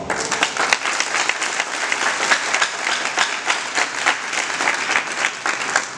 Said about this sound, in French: je vous demande d'applaudir les parents